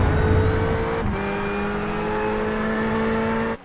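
A sportscar engine in the iRacing simulator holds at the rev limiter at Road America, a loud, sustained high-pitched buzzing drone with a brief stutter early on, cutting off abruptly at the end.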